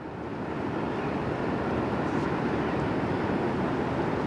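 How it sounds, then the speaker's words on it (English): Low, steady rumble of a 400 m COSCO Shipping Gemini container ship passing on the Westerschelde in the Netherlands, a constant dull roar with some wind noise, heard alone with no talk. "Ship makes so much noise."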